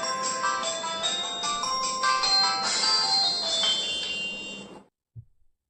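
An Itel Super Guru 4G feature phone plays its switch-on tone, a bright melodic chime lasting about five seconds that ends abruptly, followed by a short low knock.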